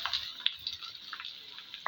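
Bitter gourd and potatoes go into a frying pan with a browned paste, giving a soft, steady sizzle with light scraping and stirring clicks, close and quiet with no talking.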